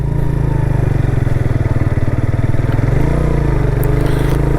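Suzuki GS motorcycle engine running steadily and close while the bike is ridden through a turn, a continuous loud throbbing drone with slight clatter and no talk.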